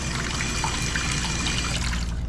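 Pressurized cold water gushes steadily from a tap in an off-grid cabin during a snowy spell, a loud, continuous close-up rush of water with no talking.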